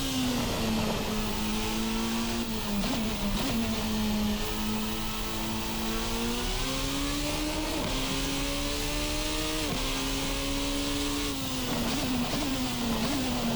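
Formula RSS Supreme open-wheel race car in a racing sim, its engine revving steadily and rising in pitch through gear pulls, loud and continuous with no talk.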